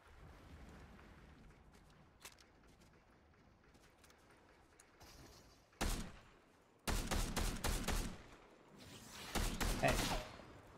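Gunfire in a video game, loud bursts of shots breaking in around six seconds and again between seven and eight and near ten seconds, over a low game ambience with scattered quieter pops.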